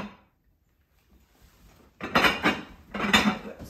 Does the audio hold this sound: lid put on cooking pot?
yes